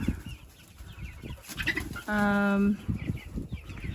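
Chickens in a coop cluck and murmur nearby throughout, with one louder drawn-out squawk in the middle; a person speaks over them at times.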